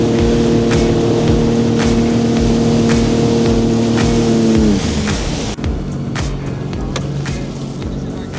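Sea-Doo personal watercraft riding at Niagara Falls on the last ride of the season, a loud steady engine drone with strong harmonic whine that drops in pitch near the end, wind and water noise throughout, with a voice briefly audible.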